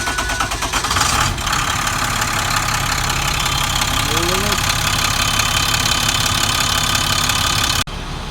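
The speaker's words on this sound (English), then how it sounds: "It's going to get a little noisy because our engine cover is off the firewall" A DT466 diesel engine runs loud and close with its engine cover off the firewall, giving a steady rumbling drone with a knocking texture throughout. The level holds level and briefly dips near the end.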